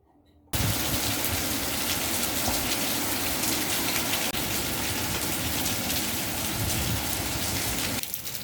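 Steady, dense rain on a rainy day in Southern Nigeria pours down onto surfaces, close and loud, starting abruptly after a brief quiet moment.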